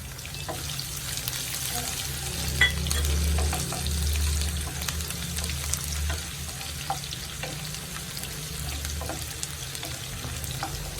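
Garlic and ginger sizzle and fry steadily in hot oil while making a Kerala mango pickle (kadumanga achar), with occasional stirring clinks breaking through the continuous close frying hiss.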